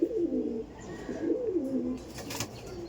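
High-flying pigeons of a famed Kolkata breed coo close by, with soft, rolling throaty calls repeating in waves, then a brief rustle near the end.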